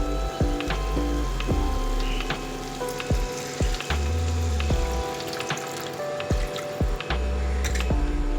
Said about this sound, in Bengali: এবার আমি এর মধ্যে গরম জল অ্যাড করব।